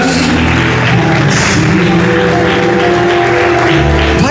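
Church congregation applauding during a sermon about Jesus, a steady wash of many hands clapping close and loud, with faint musical tones underneath and no voices over it.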